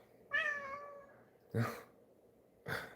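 A pet cat gives one clear, drawn-out meow, then two shorter, rougher cries about a second apart, close and fairly quiet in an otherwise still room.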